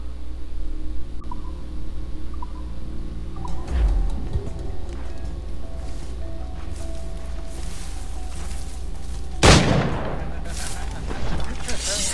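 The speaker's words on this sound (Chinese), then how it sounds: "还在开枪？" Gunfire in the video game Assassin's Creed IV Freedom Cry: two sharp, booming shots several seconds apart ring out over a low game soundscape of hum and ambient tones.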